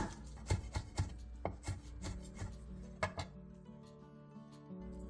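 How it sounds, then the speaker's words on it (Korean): A knife chopping green onion (daepa) on a cutting board, a series of quick, close knocks in an uneven rhythm, tapering off near the end under faint background hum. "대파 조금을 쫑쫑 썰어주세요"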